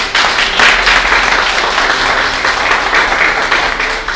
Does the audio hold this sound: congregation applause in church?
yes